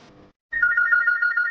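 A telephone ringtone plays in a warbling, repeated pattern after a brief quiet gap, fairly loud and steady, while someone is being called in an Indonesian drama.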